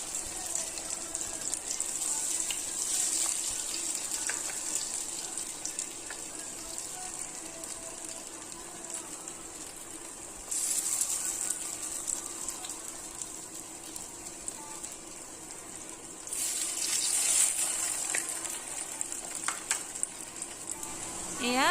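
Marinated raw banana pieces frying in hot oil in a wok, a steady close sizzle with a brief louder burst of crackling partway through, no voices over it.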